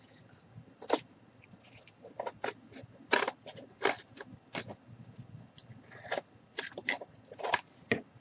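Scissors or a blade snip away excess cardboard around a small handmade mini cardboard stove box, a string of short, crisp crunching cuts in an irregular rhythm, close and fairly quiet.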